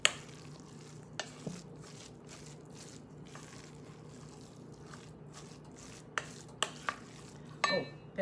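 Food being stirred in a pan for meatloaf with a sweet tomato sauce: soft scraping against a low background of gentle sizzling, with a few sharp clicks of utensil on pan and a clatter near the end.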